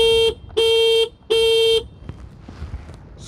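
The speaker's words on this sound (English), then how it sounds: "and the horn, which currently sounds like this." Horn of a Simple One electric scooter giving three short, thin, evenly spaced honks close by, followed by quiet background noise.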